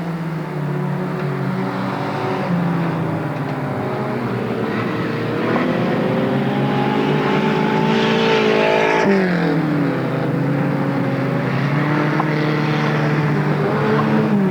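360 sprint stock cars race around a dirt track at Marysville, California. Engines roar and rev up and down as cars pass, loud and continuous, with overlapping pitch sweeps.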